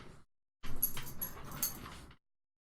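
A puppy whimpers and whines in a short run of soft, high cries, close but quiet, with silence before and after.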